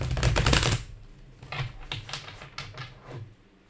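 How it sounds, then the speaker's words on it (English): Cards riffle and snap in quick crackling bursts, one long shuffle followed by several shorter flutters, close and clear with no voices. "I'm going to shuffle these cards 3 times"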